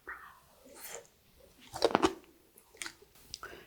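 Crisp altari radish kimchi, made with a potato starch paste, is bitten and chewed up close, with a loud crunch in the middle and softer wet chewing before and after, no talking.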